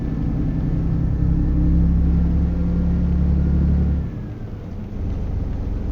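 A Mercedes-Benz MP5 truck engine in Euro Truck Simulator 2 drones steadily and loudly with a deep, constant rumble, then eases off to a lower, quieter hum about two-thirds of the way through. No one speaks.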